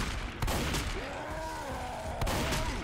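Sharp gunshots crack out in a video game scrim match, a few loud separate bangs spaced across the moment, with voices talking underneath.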